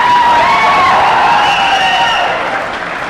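An audience at a talk breaks into loud cheering and clapping, with whoops and raised voices rising over the crowd before slowly easing off.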